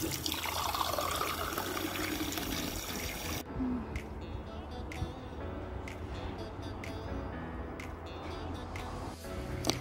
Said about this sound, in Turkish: Musluklarımızdan hayat su akıyor.